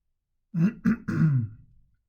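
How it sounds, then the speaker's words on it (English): A single person clears their throat in a few quick, rough bursts close up, trailing off into a low grumble. "I just cleared my throat on camera"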